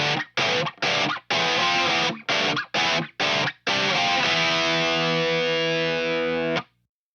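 Heavily distorted electric guitar in drop D tuning plays a riff: a run of choppy, rhythmic power-chord stabs, then one long sustained chord ringing out for several seconds before cutting off.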